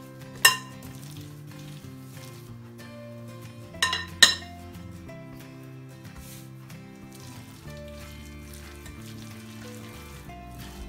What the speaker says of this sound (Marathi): आपण आता थोडं पसरवून त्याच्यात मी आता हे जे 2 चमचे तीळ घेतले त्याचं टाकते.